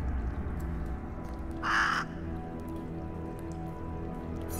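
A single crow caws once, clear and fairly close, over a soft steady patter like light rain in a video game scene, no talking.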